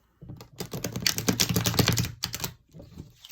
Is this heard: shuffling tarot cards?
yes